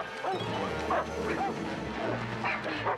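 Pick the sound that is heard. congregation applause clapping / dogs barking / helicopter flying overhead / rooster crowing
dogs barking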